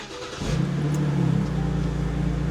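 A BMW E9x car engine cranks and catches, then settles into a steady, throbbing idle close by, with no talking.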